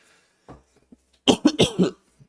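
A few soft stirrings, then a burst of several hoarse coughs in quick succession, close and fairly loud, with no talking.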